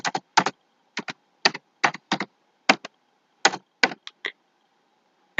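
Keys tapped on a computer keyboard come in short clustered bursts with quiet gaps between, close and crisp, with no voices.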